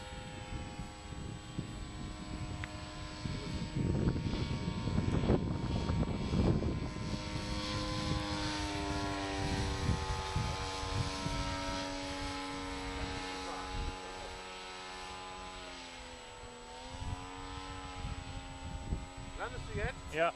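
A Blackhorse Fieseler Storch RC model airplane drones steadily overhead on its maiden flight, its electric motor humming with shifting pitch as it flies, while people talk nearby.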